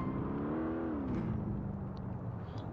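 A taxi drives in GTA 4, its engine humming steadily with a rising then settling pitch. The vehicle sound is close and continuous throughout, and no one speaks.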